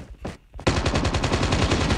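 Minigun fire in the mobile game Call of Duty Mobile: a continuous, loud, rapid stream of shots roaring nonstop after a brief lead-in of softer game noise.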